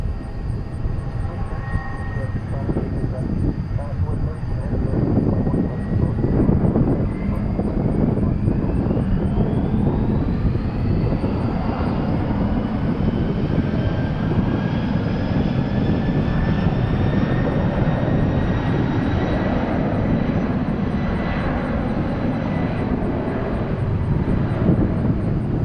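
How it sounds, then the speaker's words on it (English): An Airbus A300 jet rolls for takeoff to Louisville with its engines building into a loud, steady roar and a rising whine, sustained and close throughout. "Taking off the old A300 to Louisville."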